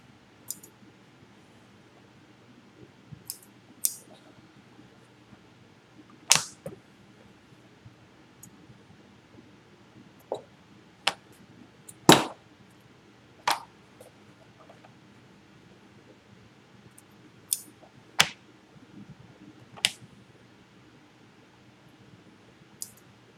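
Scissors snip apart chained fabric pieces and trim loose threads for a drawstring bag: sharp, isolated clicks and snips scattered irregularly over quiet stretches, close and fairly soft.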